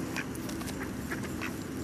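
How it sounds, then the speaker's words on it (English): Ducks at a duck zoo quack over and over during hand-feeding time, a steady, busy chorus of short calls close by with no talking. "That's feeding time at the duck zoo."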